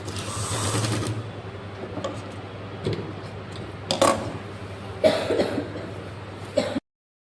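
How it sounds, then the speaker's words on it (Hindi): A sewing machine stitches the waistband of an Afghani salwar, whirring steadily for about a second up close, then falling quiet apart from a few scattered knocks and clunks of handling the fabric and machine. "ऊपर हमने यहाँ पे सिलाई लगा ली है, एक पैर की दूरी से सिलाई लगा"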